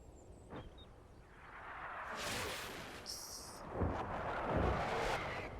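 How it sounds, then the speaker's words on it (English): In a Combat Mission Black Sea battle, 120mm mortar rounds land as several deep, rolling booms with a rushing whoosh, swelling and fading one after another at moderate distance. "That's another 120mm mortar rounds"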